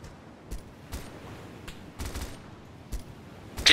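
Gunfire in the video game ARMA 2: scattered bursts and single shots at irregular intervals, mostly distant and muffled, with one sharper, louder burst at the end, no talking.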